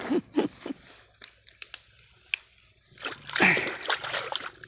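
Sticky hands get washed in water after cutting oil palm fruit bunches, with splashing and sloshing that grows into a steadier wet rush toward the end. Faint talk sits in the background.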